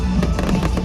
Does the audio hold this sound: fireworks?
yes